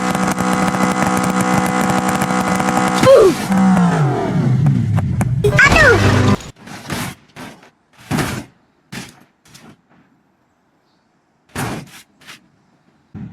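A Land Rover Defender in BeamNG.drive runs with a loud, close engine drone that rises and pitches around, then cuts off abruptly into short bursts of noise and silence.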